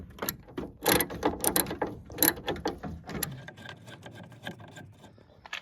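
A hand ratchet works 10mm tail light bolts loose on a Toyota Tacoma in a quick, uneven run of close clicking for about three seconds, then softer scattered ticks.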